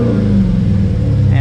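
A 2018 Dodge Challenger 392 V8 with a modified PCM revs under throttle, its steady low rumble rising slightly and sustained close by, with a voice talking over it.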